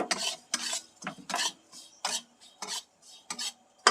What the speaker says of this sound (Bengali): আমি সুজিটাকে ভেজে নিচ্ছি